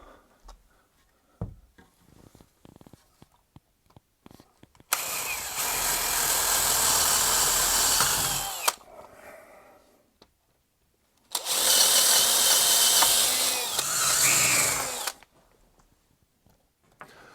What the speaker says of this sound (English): I'm going to be drilling into the masonry behind it